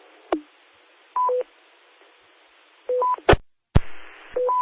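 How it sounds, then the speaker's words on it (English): Brief unmodulated carrier bursts and DTMF-like tones keying up an amateur radio repeater, a few short kerchunks and beeps spaced apart over radio static, with no speech. "we had the repeater Kerchunk there"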